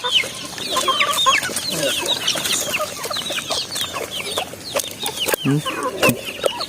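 Native hens cluck repeatedly in short bursts, with several birds overlapping in a busy backyard farm chorus and occasional louder calls close by.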